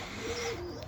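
Pigeons cooing close by in a short, soft, low hum that swells and fades once, with faint background noise and no talking.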